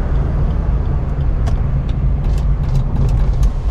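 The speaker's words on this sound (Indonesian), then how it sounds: "Dengerin ya suara kabinnya saat di jalan tol Jagorawi." Cabin noise inside a Suzuki XL7 Hybrid cruising on the Jagorawi toll road: a steady low road and engine rumble with tire hum, broken by faint brief ticks and knocks, and no talking.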